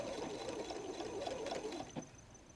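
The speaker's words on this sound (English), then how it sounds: "we're just going to sew the side seam" A sewing machine runs a straight stitch along a messenger bag's side seam in a steady rapid whir, close and continuous, with a brief clack near the end.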